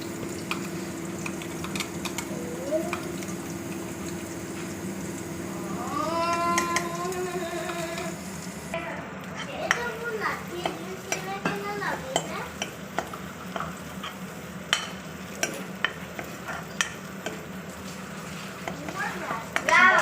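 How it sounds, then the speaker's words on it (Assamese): Onion, ginger and garlic paste fries in a pan for a chickpea curry, a steady sizzle with scraping stirs and clinks of a utensil against the pan, while someone talks over it. "এতিয়া পিঁয়াজৰ পেষ্টটো দি দিম। জানি পেলাই হা পিঁয়াজ, আদা নহৰু পেষ্ট।"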